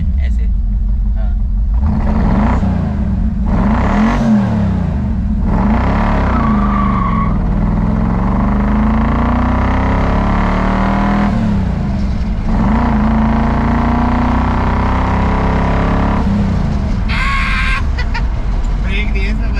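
Shelby GT500 Mustang Eleanor V8 engine revving and accelerating hard from a standstill, a loud continuous low roar with rising and falling pitch sweeps through gear changes, people talking and exclaiming over it.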